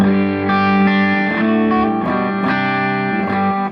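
Distorted electric guitar plays sustained, ringing chords through an amp, dry and close with no reverb tail, changing chords every half second or so.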